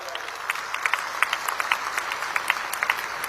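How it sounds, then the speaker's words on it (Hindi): An audience at a public rally applauds for young girls with a steady, moderately distant wash of clapping that holds through the whole stretch, with some voices mixed in. "बच्चियों के लिए एक बार जोर से ताली बजाओ जरा।"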